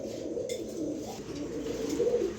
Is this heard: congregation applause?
no